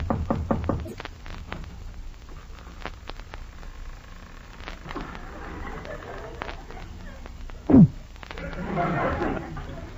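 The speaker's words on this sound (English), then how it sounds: "Knock on the door." Knocking on a door as a radio sound effect in a 1945 Halloween comedy show, a quick run of sharp raps near the start amid crackly background noise, followed by other clattering effects and a loud bump.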